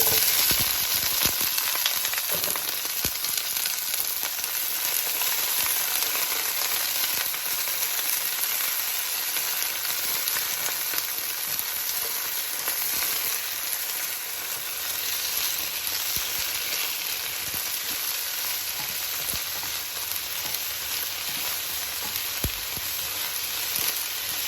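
Bok choy stir fry cooking in a pan until golden brown gives a loud, continuous dense sizzle with faint crackles throughout, close up and with no voices.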